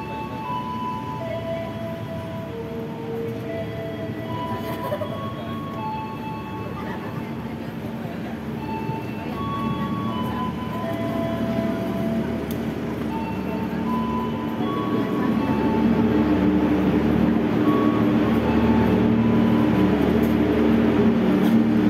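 A Prameks passenger train departing a station toward Kutoarjo rumbles steadily, growing gradually louder as it gets moving, with low mechanical drone and faint tonal squeals throughout; no talking.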